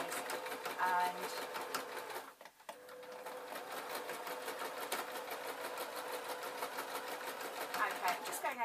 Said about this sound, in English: I'm just going over the seam now, that's the slight difference in pitch